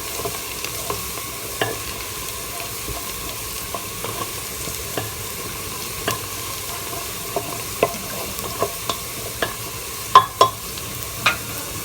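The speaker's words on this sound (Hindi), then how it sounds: "हमारी प्याज बहुत अच्छी तरह से फ्राई हो रही है।" Onions fry in a pan with a steady, even crackling sizzle at moderate volume, dotted with small pops and a few sharper spatula taps near the end, with no talking over it.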